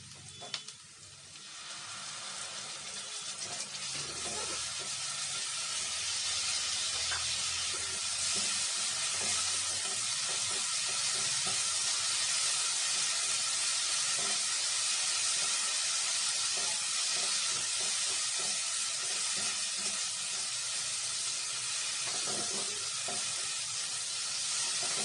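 Ginger, garlic and cashew-melon-seed paste frying over onions in a pan gives a steady, loud broadband sizzle that runs throughout, with scattered scraping and stirring clicks and no talk.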